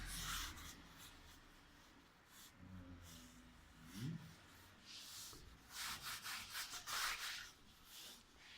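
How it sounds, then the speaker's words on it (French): Broom brush dragged through acrylic paint on canvas, soft scratchy rubbing strokes in irregular bursts, quiet and close, growing denser toward the end. "j'adore le son du tracé que ça fait sur la toile"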